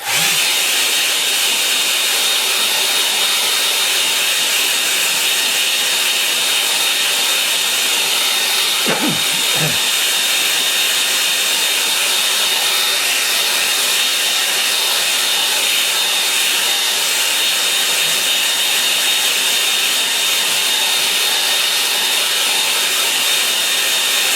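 Hair dryer blowing steadily over a wet watercolour landscape painting, a continuous broadband whoosh that runs unbroken and fairly close throughout, with one brief low thump partway through.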